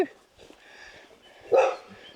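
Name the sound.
dogs barking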